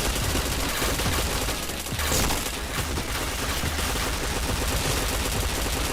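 Sustained rapid T77 rifle fire in an online shooter game, dense overlapping bursts running continuously and loud throughout without pause.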